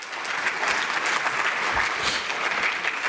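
An audience applauds Katie Strand at a keynote address, a dense, steady wash of many hands clapping that holds at an even level throughout, with no talking over it.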